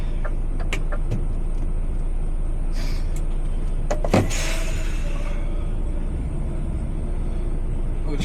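An HGV lorry on a night trunk run toward a Liverpool depot, a loud steady low engine and road rumble from inside the cab, with a few clicks and a brief hissing burst partway through.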